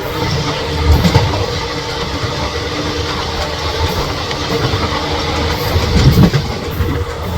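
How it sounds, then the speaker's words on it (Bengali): The 04311 Yog Nagari Rishikesh Special from Kolkata to Haridwar runs toward Babua Road with a steady broad rumble and rattle from inside the coach. It swells slightly near the end, and no one speaks. "ট্রেন এখন আমাদের বাবুয়া রোডের দিকে যাচ্ছে"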